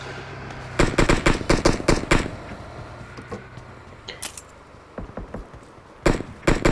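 Rapid bursts of automatic gunfire crackle in a crowded online shooter lobby, with several clustered volleys, scattered single shots and a final burst, all without talk.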